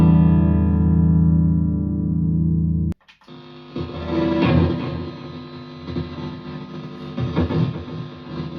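Electric guitar played clean through a Lekato wireless system: a sustained, steady note rings, cuts off abruptly, then a run of close plucked notes and chords follows with no talk.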